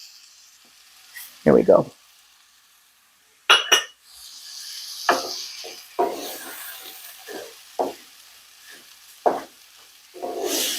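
Rice toasting in a pan with onions and mushrooms for risotto, sizzling softly with scattered stirring scrapes and a few louder clatters, while a voice speaks briefly near the start.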